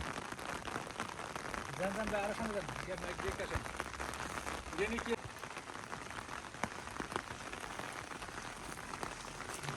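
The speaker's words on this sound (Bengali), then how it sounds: "বৃষ্টি আসলে একটা সৌন্দর্য, মেঘ সব নিচে নেমে যায়।" Rain falls in a hilly jungle as a continuous soft hiss of drops on surfaces, fairly quiet and even, with voices briefly talking in the middle.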